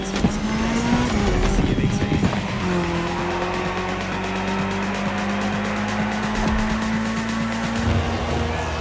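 Rally car engines in The Crew Motorfest, including an Audi S1 EKS RX Quattro and a Ford Puma Hybrid Rally 1, droning steadily near and loud with shifting pitch and bursts of tire scrabble.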